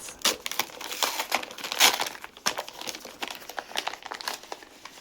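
Plastic or paper package wrapping from a games and console haul being torn and crinkled open by hand, a busy run of close crackling rustles and short ripping bursts.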